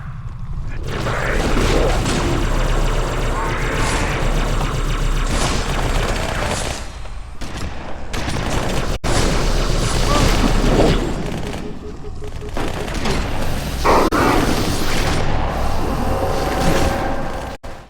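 Sustained suppressive gunfire in the video game Halo 2, continuous loud shooting and booming blasts through a dense battle din, with voices shouting amid the noise.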